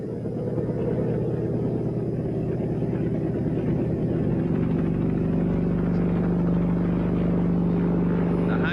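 A helicopter flies over snowbound Monmouthshire during the 1963 Big Freeze, a constant low rotor and engine rumble that stays loud and steady throughout, with no voices.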